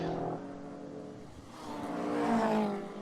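A Shelby Cobra race car with a 4.7 litre engine accelerates out of a corner at the Knockhill circuit, its engine note dipping and then climbing into a loud, rising roar.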